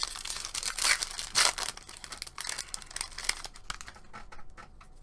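A foil Magic: The Gathering Commander Legends booster pack is torn open, with close, loud crinkling and tearing of the foil wrapper in irregular bursts that thin out toward the end.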